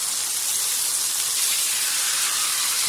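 Boneless chuck steaks sizzle loudly in a hot pan after being flipped, a steady, bright hissing sizzle with no talk over it.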